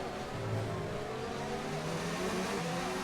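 A Ferrari-powered F1 race car in the F1 2019 game revs and whines, its engine tone rising and falling steadily at moderate level, with other cars faintly audible around it.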